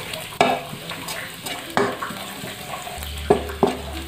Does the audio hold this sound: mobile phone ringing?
no